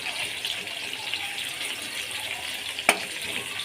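Onions sizzle in hot ghee for chicken pulao, a steady hissing fry throughout with one sharp brief crackle near the end, close and without talk.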